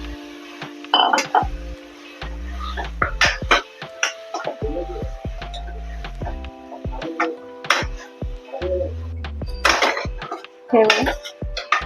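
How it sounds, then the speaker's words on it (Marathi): Mutton pieces go into a pan of spice mixture for a dry mutton dish, with a run of scattered metal clinks and scrapes of spoon against pan, a few louder knocks, and some soft talk in the background. "चला तर आता आपण मटण टाकून देऊ"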